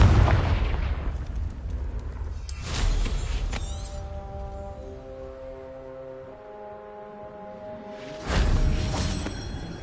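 The Confringo fire spell in Hogwarts Legacy: two loud, deep booming blasts several seconds apart, each with a whooshing rush, separated by a ringing magical shimmer and tonal chimes, with no talking.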